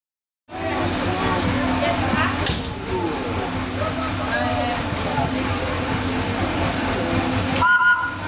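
Inside the Wildlife Express train at the Animal Kingdom station, a steady rumbling rail-car noise runs throughout with clanks and squeaks, while announcements and voices carry over it.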